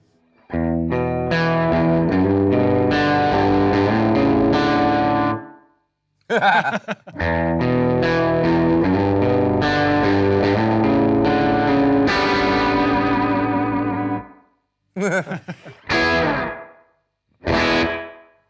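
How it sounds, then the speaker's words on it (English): An instrument played through heavy reverb with full damping applied, loud sustained chord swells with long washy tails, broken by short gaps and brief bursts, distorted and chorus-like in texture. "Big reverb when I'm playing"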